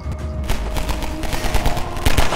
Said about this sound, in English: Getting shot at by police forces is definitely not how I like to spend my day.